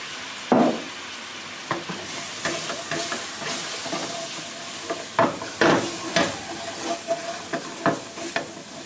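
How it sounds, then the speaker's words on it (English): Sauce poured into a hot pan of hamburger steaks, setting off a loud sizzle followed by steady frying hiss, with scattered scraping and stirring knocks near at hand. "we'll just dump some what's this here sauce in there"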